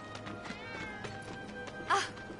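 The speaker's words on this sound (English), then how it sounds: "That was definitely a cat." A cat in the town of Final Fantasy VII Remake gives a short, fairly clear meow near the end, over steady game ambience and a low background hum.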